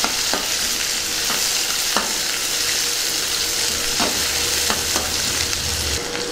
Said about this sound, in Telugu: ముందుగా తరిగి పెట్టుకున్న ఉల్లిపాయ ముక్కలు ఇందులో వేసుకుందాం. దీన్ని ఒకసారి బాగా కలుపుకుందాం.